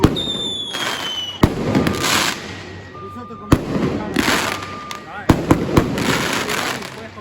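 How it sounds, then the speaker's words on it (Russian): Russian New Year fireworks in Peru boom in sharp, separate bursts every second or two, each followed by crackling and rumble, with people's voices and whistling rockets in between. "У нас салют."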